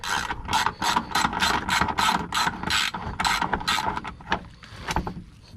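Ratchet clicking while removing a bolt from a Dodge Challenger SRT8, a series of quick, close ratcheting bursts in steady rhythm, with a few slower clicks near the end, no talking over it.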